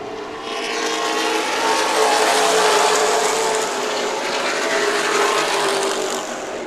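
Late model stock cars race in a 100-lap feature at Irwindale Speedway, a loud, steady roar of engines and rushing wash from a pack at close range, swelling slightly and holding without breaks or talk.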